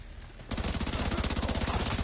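Rapid automatic gunfire in a video game rattles loud and continuous after a brief quieter lead-in, a dense stream of shots aimed at the player.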